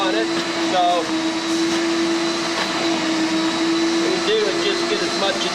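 A wet vacuum drones steadily and loudly on carpet, a constant high whine with a humming tone, while a person talks over it.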